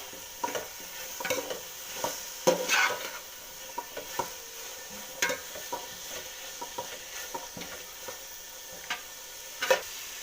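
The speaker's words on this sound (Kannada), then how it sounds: "ಲೈಟಾಗಿ ಫ್ರೈ ಆದರೆ ಸಾಕು" Garlic and ginger for chicken gravy fry lightly in a pan while being stirred. A faint sizzle runs underneath, and a utensil scrapes and knocks against the pan in irregular, close strokes throughout.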